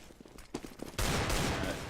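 Desert Eagle pistols fire in Counter-Strike: GO on Dust 2 during a professional match, a few sharp separate shots followed by a dense burst of overlapping gunfire.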